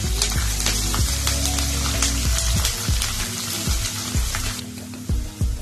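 Garlic cubes and two whole dried red chillies sizzle in hot oil for a kadhi tadka, a loud close crackle with sharp popping spatters and bursts of frying hiss.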